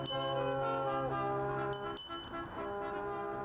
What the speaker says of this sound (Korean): 크리스마스 캐럴 연주와 함께 자선냄비의 종소리가 울려 퍼집니다